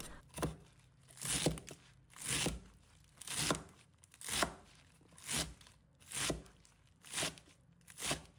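A knife chops spinach on a cutting board in steady, evenly spaced strokes, roughly nine crisp thuds with a slight leafy crunch, close by and fairly quiet, with no talking.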